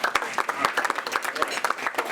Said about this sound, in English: please indicate it with some applause